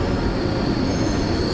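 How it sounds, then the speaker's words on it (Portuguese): An Intercity train from Milan to Taranto rolls into the station at Trani, Italy, its steady, loud rumble of wheels and carriages filling the air, with a faint high squeal above and no talking. "Aqui chegando o Intercity, que percorre toda a Itália."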